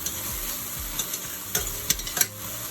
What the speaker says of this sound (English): While my onion and my sweet pepper are getting tender and soft